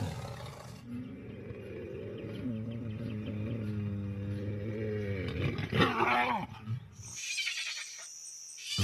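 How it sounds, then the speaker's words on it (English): A big male lion lets out a deep, drawn-out roar that swells and holds for several seconds, then breaks into rough grunting exhalations before a sudden quiet with faint high hiss. "This is what separates the big boys from the wannabes. The roar."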